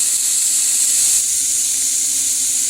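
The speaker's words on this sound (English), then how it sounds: "Okay, so we went ahead and added the garlic, the celery, and the carrots. And we want to go ahead and get this lightly sauteed" Carrots, celery and garlic sauté in a pan for Bolognese sauce, giving off a loud, steady sizzle and hiss close by, with no talking.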